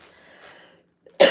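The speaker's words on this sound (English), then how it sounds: "Just can't seem to cough it up." A single sharp cough bursts out after a stretch of near silence, preceded by faint, low-level breathy sounds.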